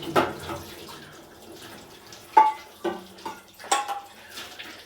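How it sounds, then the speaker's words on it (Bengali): Tap water runs and splashes onto a pan being rinsed in a kitchen sink, with a few louder bursts and clatters as the pan is handled, close and fairly clear. "এটাতে করে দেবো, তাই এটা ভালো করে ধুয়ে নিলাম।"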